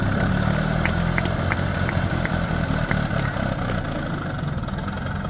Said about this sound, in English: This is an Albion A14. Introduced in 1911 as a 4-cylinder model